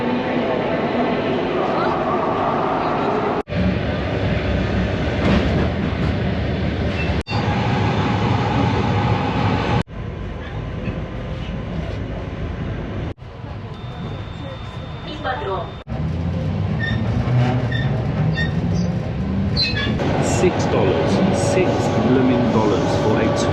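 Steady low rumble and rattle of a train rolling along rails through rural Russia toward Ryazan, continuous and fairly loud, with voices murmuring faintly in the background.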